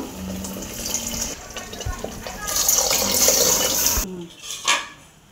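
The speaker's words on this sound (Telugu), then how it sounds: "ఇప్పుడు కొంచెం మనం వాటర్ యాడ్ చేసుకుందాము" Water poured into a simmering vegetable kurma in a pan, a steady rushing pour that swells midway and cuts off sharply, followed by a few faint stirs and splashes.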